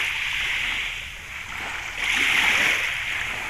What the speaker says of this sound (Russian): Вот оно море.